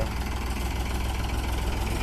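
A tractor engine idles steadily at a busy tractor market in Barnala, Punjab, a continuous low rumble with a slight knocking pulse running alone without pause.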